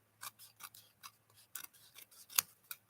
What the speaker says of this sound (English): So then just trim a little bit of the edge right here.